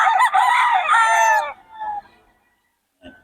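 A rooster at a home in Bocaue crows once, loud and close with a long harmonic call, followed by a couple of softer clucks and a brief faint sound after a pause.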